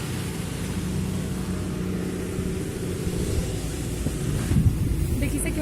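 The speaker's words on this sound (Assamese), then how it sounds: "দেখিছে কিমান ধুনীয়া বতাহ মাৰি আছে" Wind blows outdoors beside a flowering bush and buffets the microphone, a steady low rumble throughout with a stronger gust near the end and no clear speech.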